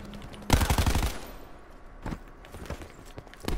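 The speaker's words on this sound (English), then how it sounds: "Here's some shots to our right." Rapid bursts of automatic gunfire in Call of Duty Black Ops 4: a loud, dense volley up close, then shorter, quieter bursts a moment later, with no talk.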